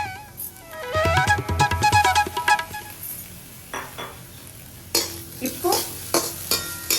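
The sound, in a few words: carrots, cauliflower and bell peppers sautéing and being stirred on a tawa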